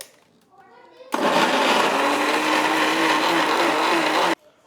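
A mixer grinder blends beetroot, curd and water, a loud steady whirring roar starting abruptly after a brief voice and cutting off sharply near the end.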